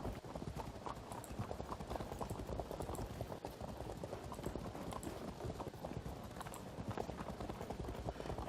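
Cavalry horse hooves in the ancient battle video game Field of Glory 2, a dense, continuous clatter of many hoofbeats at a steady moderate level throughout.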